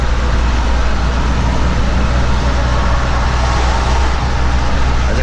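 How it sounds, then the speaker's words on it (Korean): A commercial vehicle's engine rumbles steadily and loudly for several seconds, heard from inside the cab through an open passenger window alongside a sound barrier, blended with constant road and wind noise. "제가 참 좋아하는 엔진 소리예요."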